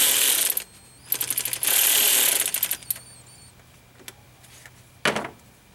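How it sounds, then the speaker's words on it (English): Quick ratcheting clicks from a tool loosening hose clamps on a cold air intake kit being installed on a 2015 Dodge Charger Pursuit, heard as several close bursts separated by pauses and a final short burst. "I'm just gonna loosen up these clamps and set this where it needs to be."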